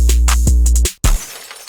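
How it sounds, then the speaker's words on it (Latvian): Full drum pattern of a hip-hop beat, booming 808 bass under rapid hats and snare hits, dense and loud, cutting to silence briefly before a final crashing hit rings out. "Visi drums kopā izklausās šādi."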